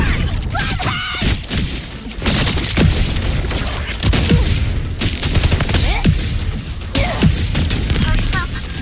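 Gunfire and grenade explosions from the video game Wuthering Waves, in a Cyberpunk Edgerunners collab event. Dense, loud bursts of shots, booms and shattering crashes keep coming without a break, with game voices calling out over the chaos.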